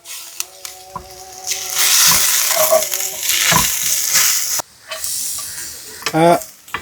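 Curry leaves dropped into hot oil with frying ginger and garlic for a Kerala-style beef tongue roast, a loud close hissing sizzle with stirring clatter and a brief pause midway.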